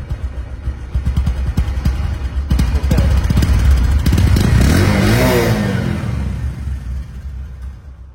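Used Bajaj Discover 125cc motorcycle engine running loud and close, its steady idle chugging rising into a revving surge before easing back down.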